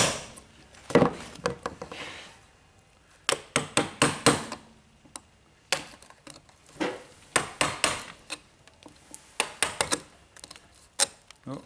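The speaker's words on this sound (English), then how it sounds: "So I've got to keep a bit of pressure on the chisel going this way." A chisel struck with a mallet chopping a mortice in wood for a saw stool, irregular bursts of sharp close knocks with short pauses between groups, no talking.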